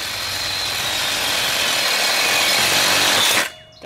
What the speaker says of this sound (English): So what I think I'm going to do is I'm just going to cut it off.